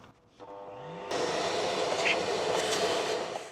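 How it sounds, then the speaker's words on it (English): A Hoover vacuum cleaner powered from an AllPowers R1500 portable power station starts up and settles into a steady, loud whirring drone nearby, with no talking. "so let's see if we can clean it up with the hoover"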